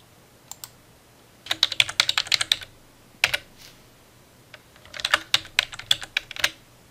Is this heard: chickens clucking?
no